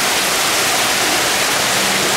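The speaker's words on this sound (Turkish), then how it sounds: "Arkadaşlar şöyle çok güzel bir şelaleler var." Steady, loud rush of falling water from a waterfall at a fish-feeding spot, a dense unbroken roar filling the scene with no voices over it.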